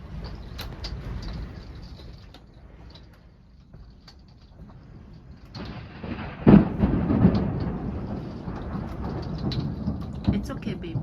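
Thunder rumbles through a storm at a dispersed campsite near Mexican Hat, Utah, a low rolling boom swelling midway over the steady patter of rain on surfaces, with soft voices in the background.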